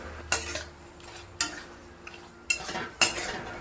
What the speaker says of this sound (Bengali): একটু ভালো করে নাড়াচাড়া করে নিই আগে